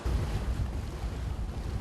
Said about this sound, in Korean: 하나둘씩 성산포항을 빠져나가는 배들.